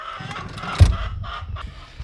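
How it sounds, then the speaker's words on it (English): A farm chicken, one of a flock with a hen sitting on eggs, gives a few soft, close clucks and murmurs over about two seconds, with a brief louder bump near the middle and quiet outdoor ambience around it. "we have a chicken sitting on eggs"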